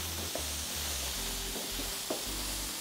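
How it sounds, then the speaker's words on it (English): Food fries in a pan, a steady sizzle with a faint low hum beneath it and a couple of small pops, alone and at moderate loudness. "You have just to fry it a bit"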